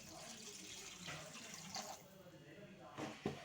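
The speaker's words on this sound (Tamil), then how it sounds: "இப்போது இதுக்கு தேவையான அளவு தண்ணி சேர்க்குறேன்." Water pours and splashes softly into a pan of kalan masala, faint and close, in a quiet kitchen.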